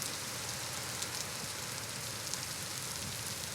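Rain falling in the survival game Vintage Story, a steady hiss of rainfall with faint scattered drop ticks, even and unbroken at moderate volume.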